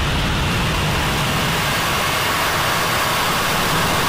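The Isar Aerospace Spectrum rocket's engines ignite on its first test flight, a loud, dense, unbroken roar like heavy rushing noise that fills everything, steady and overwhelming throughout with no talking.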